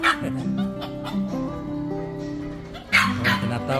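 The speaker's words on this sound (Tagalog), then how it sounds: "So may maingay na aso rito." A noisy dog at a hilltop viewpoint in Antipolo, Rizal, letting out a string of yips and whimpering barks, close and fairly loud, with a sharper burst near the end.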